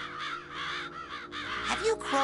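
Crows in the Psychonauts video game caw repeatedly in harsh, wavering calls close by, with a voice cutting in toward the end.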